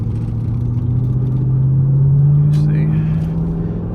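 A Camaro SS with paddle shifters pulls away, its V8 rumble rising steadily in pitch as it accelerates, then an automatic gear change brings a brief dip and a faint clunk; a voice talks over the engine.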